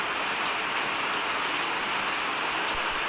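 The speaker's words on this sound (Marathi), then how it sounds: "पाऊस जोरात आला" Heavy rain falls outside, a dense, even hiss of steady downpour that continues unbroken, with no voices.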